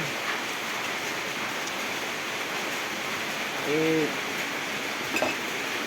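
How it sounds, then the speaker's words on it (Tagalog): Heavy rain pours down as a dense, constant hiss with no letup, loud and near. A brief tonal chirp and a short knock break through near the end. "masyadong malakas po ang ulan."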